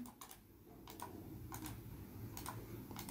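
Keys clatter on a computer keyboard in short bursts of quick clicks, several small clusters of taps spread across a few seconds, close and fairly quiet over a low background hum.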